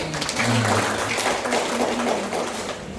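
Audience applause at a Muhammadiyah Aisyah anniversary reception in Lahat, South Sumatra, a steady dense wash of clapping that fills the whole stretch at moderate loudness, with faint murmuring beneath.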